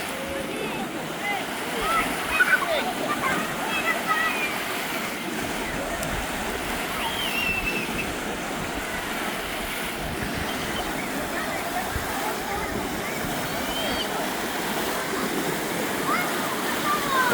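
Artificial waves surge through a thermal wave pool at the Zsóry complex in Mezőkövesd, Hungary, a steady loud wash of churning, splashing water running throughout, with faint voices of bathers beneath.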